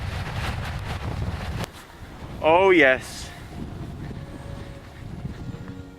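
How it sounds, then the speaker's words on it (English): Wind buffets the microphone on an Isle of Skye hiking trail toward the Needle, heavy low rumbling gusts that drop off midway, with a man's short exclamation and a brief sung tone in the lull. "Windy."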